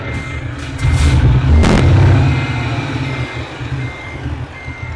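In the Euro Truck Simulator 2 video game, a truck engine rumbles while a steady reversing beep repeats, with a short hiss like an air brake, fairly close and loud.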